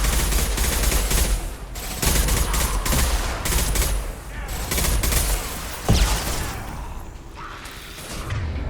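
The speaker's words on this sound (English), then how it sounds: "Firing concussive shot!" Gunfire and a concussive shot in a Mass Effect 2 firefight on Omega, with loud bursts of rapid shots, a sharp heavy blast near the middle, and mechanical whooshes between volleys.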